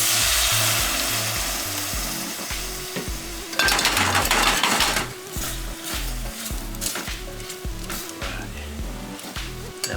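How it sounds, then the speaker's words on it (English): Chardonnay white wine hitting a hot pan of browning garlic, a broad hissing sizzle that swells loudly midway and then settles into a steady fry under clinking of utensils and stirring. "see the garlic getting a little too brown, we're gonna go ahead and deglaze with a white wine."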